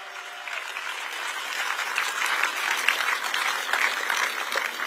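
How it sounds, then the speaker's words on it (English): Steady applause from an audience at the US 250th anniversary celebration opening, a dense wash of clapping that holds throughout and swells slightly toward the middle. "Give a round of applause to the AV team"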